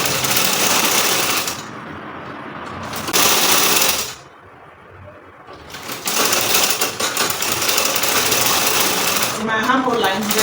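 A sewing machine rattles rapidly as it stitches the shoulder seam of a triangular bubu top, running in loud bursts separated by brief pauses.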